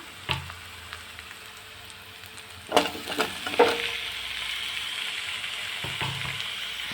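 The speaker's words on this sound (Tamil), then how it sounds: "வெங்காயம் ஓரளவுக்கு வதங்கி வந்துடுச்சு இப்போ தக்காளியை சேர்த்துடலாம்" Chopped tomatoes going into sautéing onions in a pan, heard as a quiet sizzle that swells after a few clattering drops and utensil knocks midway, then settles into a steady frying hiss, with no voices.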